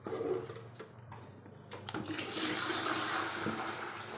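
Water is poured by hand during work on a submersible pump setup: a soft splash starts after a couple of quiet seconds and swells into a continuous gushing pour, faint and close.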